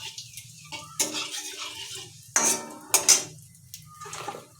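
Cumin seeds hit hot oil for tempering amid loud clanks of a spatula and pot, with several distinct metal knocks and bursts of crackling sizzle over a low background hum.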